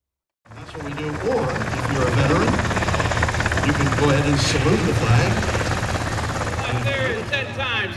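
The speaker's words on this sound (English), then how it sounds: "Looks like there's an aircraft off to the southeast of the field" Aircraft flying over the airfield at an air show, a steady loud engine drone that holds throughout after a brief quiet start, with a public-address announcer talking over it.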